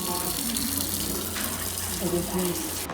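Water gushes steadily from a push-button tap into a sink in a public toilet, a loud, even rush of flow that lasts the whole moment.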